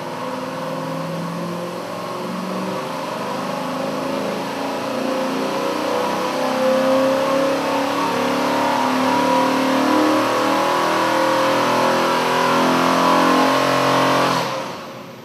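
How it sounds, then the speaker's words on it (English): Car engine revving hard through a dyno pull in a shop, with a Holley EFI self-tuning fuel system fitted; a loud, sustained, rising roar that holds for about fourteen seconds and then drops off abruptly near the end, with no talk. "We'll now make another dyno pull so that the system can do all the"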